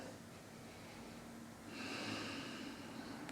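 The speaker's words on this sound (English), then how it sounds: "And we take a big deep breath there." A slow, deep breath drawn in during a tai chi opening movement, a soft airy rush that swells and brightens partway through, close and alone without talk.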